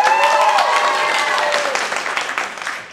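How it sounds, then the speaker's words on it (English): A convention audience at an improv Dungeons & Dragons show applauds and whoops for a fighter, a brief burst of clapping and cheers that fades toward the end. "now everyone, you guys are gonna applaud for the one that you like the most"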